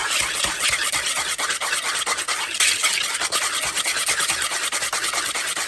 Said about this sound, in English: you do want to whisk that pretty well because you want to get that sugar dissolved